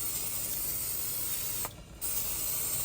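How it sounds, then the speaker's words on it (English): A brief hiss of a cooking oil spray can over fries, about a third of a second, against a steady hum of background noise. "I will put some oil over them, the spray one."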